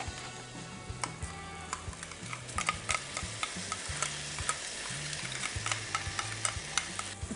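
Cashew and melon seed paste being stirred into onion masala frying in oil, a steady sizzle with repeated scraping and tapping strokes of the spoon against the pan, close and continuous without speech.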